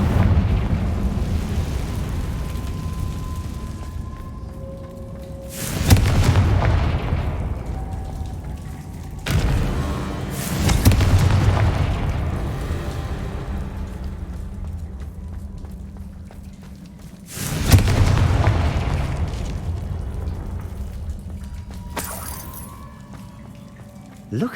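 Confringo spell blasts in Hogwarts Legacy go off as three heavy booms, each followed by a long rumbling, crackling decay that fades before the next, with a smaller burst near the end.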